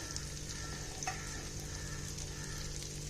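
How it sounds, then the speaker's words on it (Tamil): Steady, close sizzling of cashews and raisins frying in hot oil in a pan, a continuous crackling hiss with no voices. "முந்திரி கிஸ்மிஸ் நல்லா வதங்கிச்சுங்க."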